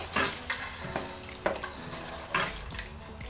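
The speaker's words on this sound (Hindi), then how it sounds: "अब मैं इसमें पानी डाल दूंगी" Water is poured into a pan of sizzling chicken, giving a steady frying hiss with splashing bursts and stirring scrapes, close and moderately loud, with no talk.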